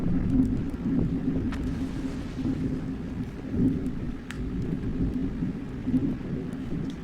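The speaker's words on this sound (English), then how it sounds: "If you can't tell, there's a storm outside." Thunderstorm outside with steady rain and low rolling thunder, heard from indoors as a continuous rumbling wash throughout.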